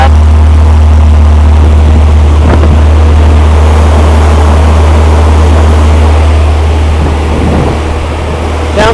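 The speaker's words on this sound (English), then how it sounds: "Listen to that thing. Little 80 horsepower monster right there." A rebuilt 80 horsepower aircraft engine runs just after its first start, a loud, steady, close droning roar with a constant low hum throughout.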